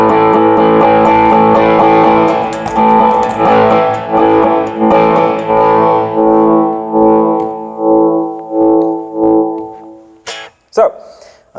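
Loud electric guitar with heavy high-gain distortion, thick sustained chords ringing out and pulsing, fading toward the end before a couple of short scratchy hits.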